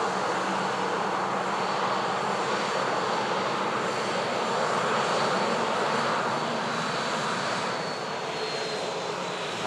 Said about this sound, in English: Just about to capture the EasyJet touching down from Reykjavik